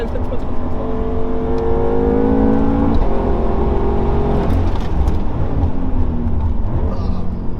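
A 700-horsepower BMW M5 drifting through corners, its engine revving steadily with rising and falling pitch close by, loud and sustained throughout.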